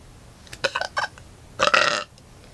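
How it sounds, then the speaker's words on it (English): Two close, loud burps from a young woman, a short choppy one broken into a few pulses and then a fuller, longer belch, with quiet in between. "a lot of burps for this video"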